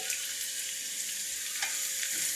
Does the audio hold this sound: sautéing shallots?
yes